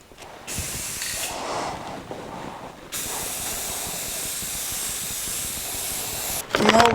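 Bursts of spray paint hiss from an aerosol can during a light second coat, a short spray, a pause, then a long steady close hiss ending in a brief rattle.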